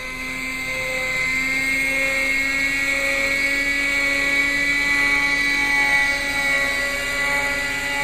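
A Quickie .18 nitro RC helicopter engine runs at a steady high-pitched whine with rotor hum, close and loud, holding a fairly constant tone throughout.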